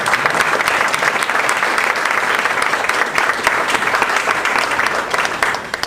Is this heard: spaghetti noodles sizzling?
no